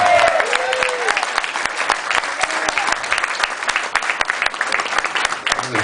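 Loud audience applause at a charity adventurers' event, a dense sustained burst of clapping from a crowd welcoming someone to the stage, with a brief voice at the start.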